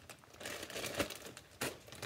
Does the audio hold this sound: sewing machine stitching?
no